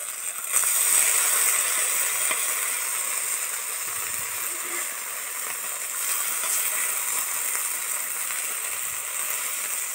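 Mushrooms frying in oil in a pan give a steady, close sizzle that hisses evenly throughout with small pops and spits, with no one speaking.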